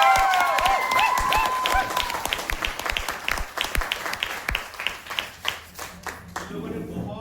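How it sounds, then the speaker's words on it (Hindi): A crowd at a motivational training session breaks into loud applause, claps thinning out toward the end, with voices and a bright ringing tone mixed in early on. "इनके लिए जोरदार ताली।"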